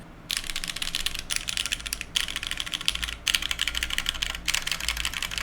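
A handmade mechanical keyboard is typed on fast and continuously, producing dense, loud clacking in long bursts broken by brief pauses.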